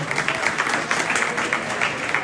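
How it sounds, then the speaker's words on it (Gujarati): An audience claps steadily and densely at a community felicitation ceremony for students, with sustained applause throughout and a faint crowd murmur beneath. "તાળીઓથી એમને વધાવી લઈએ."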